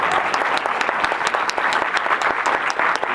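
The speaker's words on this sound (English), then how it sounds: "Can we give him a round of applause?" A seated audience at a showcase event gives a voice actor a loud, sustained round of applause, dense overlapping claps with a few sharp individual hand strikes standing out.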